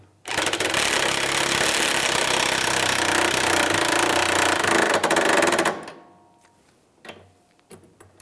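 A power tool spins a nut down onto the rear sway bar link of a 2013-2016 Dodge Dart, a loud, steady rattling whir held for about five seconds before cutting off, followed by a few faint clicks.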